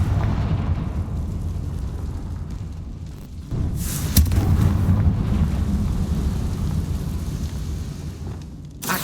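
A Confringo blasting spell in Hogwarts Legacy: a sustained low rumbling roar with a sharp burst near the middle that swells into a heavy, booming explosion, loud and continuous throughout.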